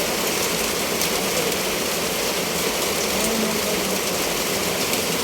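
Heavy rain pouring down in a steady, dense hiss that fills the whole stretch without a break, loud and close.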